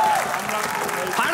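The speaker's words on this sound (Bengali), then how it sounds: "শিমুল এবং পাশের জন্য জোরে তালি" An audience at a live comedy show claps loudly and steadily, a continuous wash of applause with a voice talking over it throughout.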